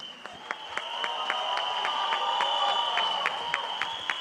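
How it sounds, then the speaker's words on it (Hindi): Applause and cheering from the audience at the Singham Again trailer launch event in the Rohit Shetty cop universe, a steady crowd roar with sharp claps standing out at regular intervals, and a long electronic tone held underneath. "एक बार जोरदार तालियां for this team"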